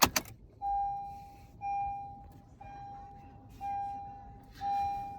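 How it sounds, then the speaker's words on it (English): Ignition of a Honda CR-V switched on, a brief key jangle followed by a steady electronic chime tone repeating in even, roughly one-second pulses inside the cabin. "we're going to turn the ignition on"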